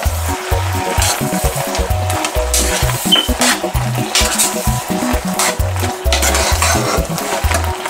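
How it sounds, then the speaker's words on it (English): Nigerian native okro soup is stirred in a cooking pot, with soft, steady scraping and sloshing running continuously under loud background music. "I'm just going to continue to stir to come on slimy."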